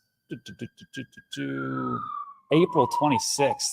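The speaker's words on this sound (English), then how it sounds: "Sorry about the siren in the background." A siren wails in the background, a faint, drawn-out tone sliding slowly downward beneath someone talking nearby.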